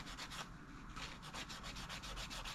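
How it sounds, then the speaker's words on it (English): Rapid back-and-forth rubbing of a soft sanding sponge along a seam on a Stuart Honey scale model tank, a steady scratchy swish repeated in quick strokes close by. "So I'm using a soft sanding sponge to remove the seam."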